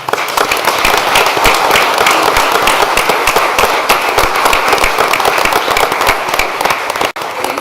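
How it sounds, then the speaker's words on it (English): Loud, dense applause fills a school board meeting room, a continuous rapid patter of many hands clapping close by that holds steady, then briefly drops out near the end. "So if we want to give them a quick round of applause"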